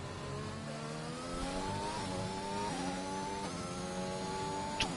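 F1 car engine in the F1 2021 video game accelerating down a back straight at the French circuit, a high revving whine climbing in pitch through several quick upshifts, fairly faint.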